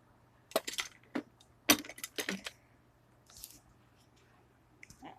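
A bath bomb mixture with coconut oil being stirred, giving a few close, scattered squishy scrapes and clinks from the bowl in short bursts with quiet gaps between.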